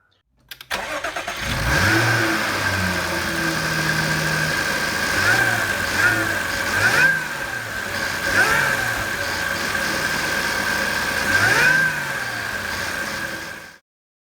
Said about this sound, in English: which does transfer some more, I would say, supercharger whine into the car. So I do hear that now when pulling away.